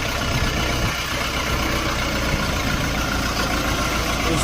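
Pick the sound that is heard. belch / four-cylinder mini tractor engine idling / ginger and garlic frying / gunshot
four-cylinder mini tractor engine idling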